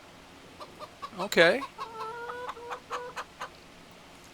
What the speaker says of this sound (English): one little quirk of this is that apparently our chickens can get out. Oh, you see some little baby chicks here.